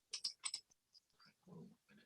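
Keys tapping on a computer keyboard in a few quick bursts of clicks, fairly close and quiet, with brief low murmurs between them and no clear speech.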